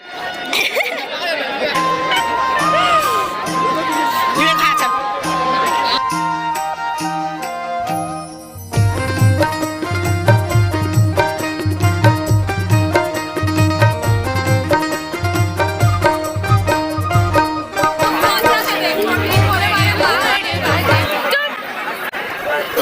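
A packed village mandai fair held with a Guha Nishad Jayanti celebration, where constant crowd chatter and babble sit beneath loud, rhythmic music from a nearby sound system.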